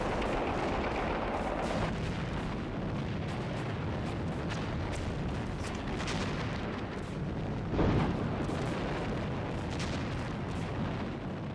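Dense Japanese gunfire and artillery on Iwo Jima during the Second World War, a continuous roar of rapid shots and booms, with one heavier blast standing out partway through.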